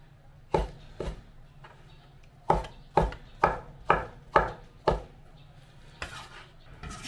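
Peeled tomatoes are chopped into small chunks with a knife on a board, a run of about a dozen sharp, close knocks in an uneven, mostly steady rhythm, with a faint background hum and no talking.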